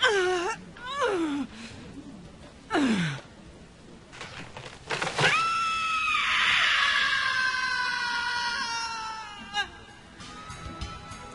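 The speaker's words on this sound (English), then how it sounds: "Unarguably the most questionable scream in any video game." A shrill, drawn-out scream from the Sega CD video game Rise of the Dragon, starting with short yelps and rising into a long wavering wail that fades at the end, loud and up close.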